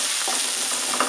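Shrimp stir-frying in a hot pan, a loud, dense sizzle with quick stirring scrapes heard up close, with a sharper clatter right at the end.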